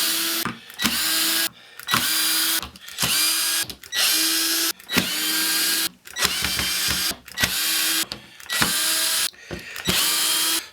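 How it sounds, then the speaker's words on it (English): A power drill backs screws out of a camper bench under repair, in repeated loud whirring bursts of about a second each, separated by short pauses, up close with no talk. "So now it's just a matter of backing out the screws."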